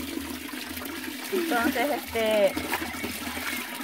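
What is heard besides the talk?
water running in a small channel used for washing clothes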